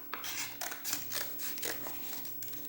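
Scissors snip and slice through paper while cutting out the inside of a letter O, a quiet, close run of irregular short cuts and rustles.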